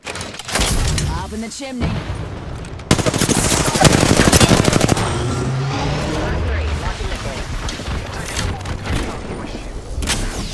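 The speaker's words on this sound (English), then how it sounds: "I am taking fire." Heavy automatic gunfire and booms in a video game shootout, loud sustained bursts with shouted voice lines and a player talking over the firing.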